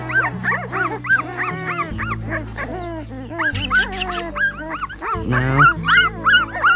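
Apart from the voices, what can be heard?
newborn puppies whimpering and yipping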